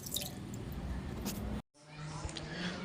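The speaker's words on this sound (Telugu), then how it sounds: "ముందుగా ఒక గ్లాసు బాస్మతి రైస్ని తీసుకొని శుభ్రంగా 2 సార్లు కడిగి ఒక అరగంట సేపు నానబెట్టాలి." Basmati rice is washed in water, with soft close sloshing and squishing, a brief silent gap, then more gentle watery stirring.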